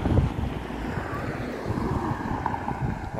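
Wind blowing outdoors on a mountain village hillside, a steady roar buffeting the microphone with low gusty rumbles throughout, loud and close.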